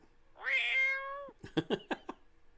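A house cat gives one drawn-out, rising-then-falling meow up close, followed by a quick series of soft clicks and taps, with no voices.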